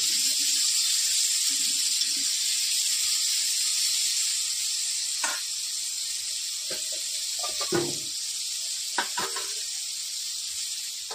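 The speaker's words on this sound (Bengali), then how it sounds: "নুন হলুদ দিয়ে সবগুলো আলুকে ভেজে নেব।" Potatoes fry in hot oil seasoned with salt and turmeric, giving a steady, bright sizzle throughout, with a few nearby clinks and stirring scrapes near the end.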